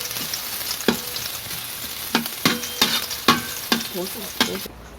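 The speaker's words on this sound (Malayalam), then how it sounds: "അതിലോട്ട് കുറച്ച് ഉള്ളി ഇട്ടിട്ടുണ്ട് വറക്കാനായിട്ട്" Onions fry in ghee in a pan over a stove for a biryani garnish, a steady close sizzle broken by about half a dozen sharp scraping stirs, then cutting off at the end.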